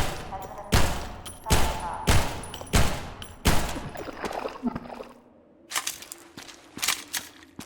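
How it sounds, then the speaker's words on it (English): Gunfire in Half-Life 2 aimed at a monster, a string of loud separate shots in steady rhythm, then a short lull before more scattered firing and crunching impacts. "This thing eats a lot of bullets."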